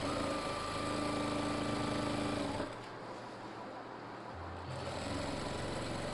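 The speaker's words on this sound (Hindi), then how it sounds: "अब ऐसे ही हमने पूरे राउंड में सिलाई लगा लेनी है।" A sewing machine stitches elastic around the waist of palazzo trousers, a continuous close mechanical drone that dips and changes pitch partway through, then speeds up again.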